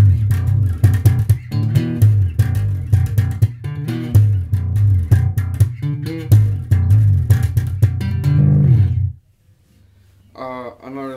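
A guitar plays the riff of a song as a fast, percussive run of repeated plucked notes over a heavy low drone, loud and close, with brief talking at the very end.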